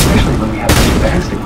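Gunfire rings out in Counter-Strike, dense rapid shots with a sharp loud burst midway, blended with a player's talk.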